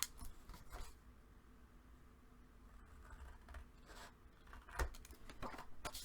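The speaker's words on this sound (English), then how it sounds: "you're going to cut just on the inside of that pencil mark" Scissors snip through a paper tag along a pencil line, quiet close-up cuts in short irregular bursts with soft rustling of the paper between them.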